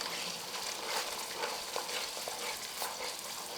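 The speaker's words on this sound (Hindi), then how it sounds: "अब हम इसे फास्ट चलाएंगे" Yogurt, 170 grams, is stirred fast in a frying pan while cooking mutton kofta, giving a soft, continuous sizzle with scraping spoon strokes, close up and fairly quiet, with no talking.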